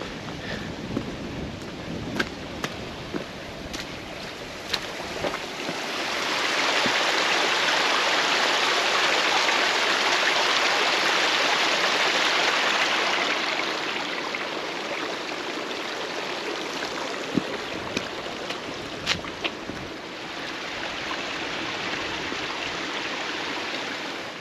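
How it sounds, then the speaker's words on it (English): A waterfall and stream in the Yorkshire Dales produce a steady broad rush of water that swells louder for a stretch in the middle, with scattered small clicks and knocks on top. "So this is classed as a waterfall."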